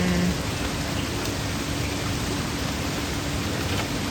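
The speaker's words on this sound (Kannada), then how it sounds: "ಇಲ್ಲೊಂದು ರಿವರ್ ಇದೆ, ಮಳೆ ಬರ್ತಾ ಇದೆ." Steady rain falls beside a river in Bali, a dense, even hiss of drops that fills the whole stretch without any voices.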